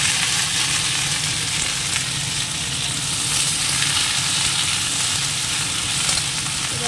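Potatoes and tomatoes fry together in a pan, producing a loud continuous crackling sizzle that holds steady throughout, heard close up with no voices.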